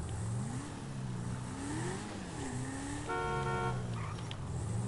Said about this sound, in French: Bon, elle a toujours mieux klaxon.